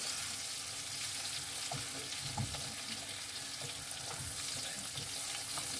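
Steady hiss and crackle of mushrooms and bacon frying in a pan for a cooked breakfast, close and continuous, with faint clinks of stirring and no talking.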